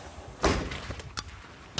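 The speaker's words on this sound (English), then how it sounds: "slam the door" A door slams once with a heavy, close thud, then lighter knocks and rattles follow in a quiet room.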